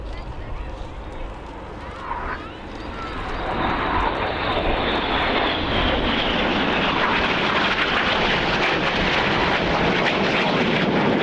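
Red Arrows jets in a flying display at RIAT 2013 build into a loud, sustained engine roar as they pass close overhead, with a commentator speaking beneath the noise.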